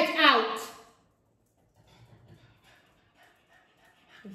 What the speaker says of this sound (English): Ignore our dog.